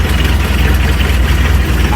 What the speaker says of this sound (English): The engine's really loud.